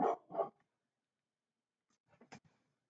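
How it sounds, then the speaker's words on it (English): A dog barks twice close by, then after a pause gives a few quieter, quicker barks and yips. "As soon as I start talking, dog barks."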